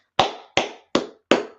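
A class claps hands together in four sharp, evenly spaced claps, close and crisp with short decays and nothing else heard.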